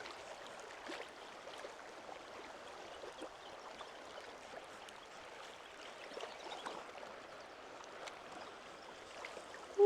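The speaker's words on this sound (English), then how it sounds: "Ooh, the river is strong today." A strong river flows steadily where brown trout are being spin-fished, a continuous broadband rush of moving water with faint gurgles and trickles, close and even throughout with no talking.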